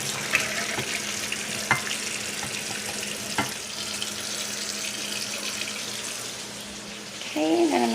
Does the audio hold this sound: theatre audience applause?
no